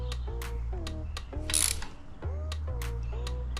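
A ratchet tightening the oil drain bolt on an SSR125 dirt bike, a series of close, sharp clicking strokes in short bursts with a brief pause in the middle.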